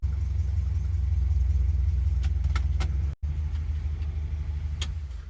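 A 1955 Mercury Montclair rolls in to park, its engine a steady low rumble close by, with a few faint clicks and a brief dropout near the end of the idle, no talking.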